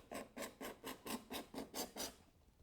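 A sharpened scraper blade peels wood from a hardwood floor in about nine even, rhythmic rasping strokes, each a short close scrape, with no talk.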